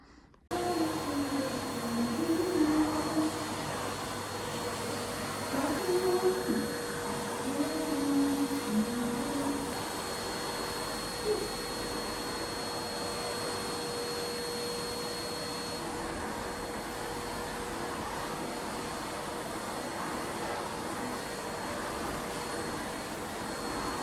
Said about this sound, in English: hoover in here and hope that the noise of the hoover doesn't burst them either